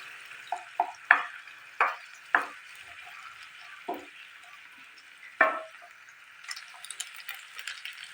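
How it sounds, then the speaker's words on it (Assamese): Two eggs fry with chopped onions in a pan, a soft steady sizzle broken by several sharp scraping stirs of a spatula at irregular intervals, close and fairly quiet. "পিঁয়াজৰ লগত মই ডিম দুটাও ভালদৰে ভাজি ল'ম।"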